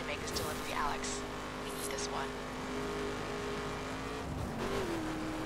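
An off-road raid car's engine in the racing video game The Crew hums quietly and steadily, with brief pitch sweeps suggesting the car bouncing and revving, under talk.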